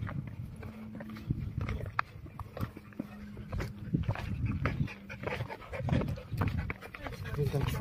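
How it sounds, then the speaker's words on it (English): Dog panting on a small mountain trail at Stoos, Switzerland, with a quick, breathy rhythm close by, heard under people talking and footsteps during a walk. "Very cute dog."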